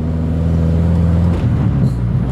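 A Honda Civic engine fitted with a full stainless exhaust and a tune idles with a steady, deep, close rumble. It keeps an even drone throughout, with a slight shift partway through.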